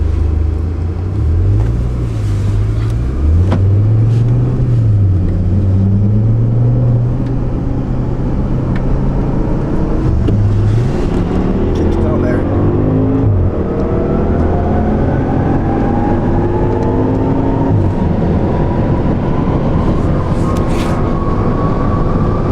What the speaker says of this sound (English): we will race against BMW E39 M5 by ESS with supercharger from 50 kilometers per hour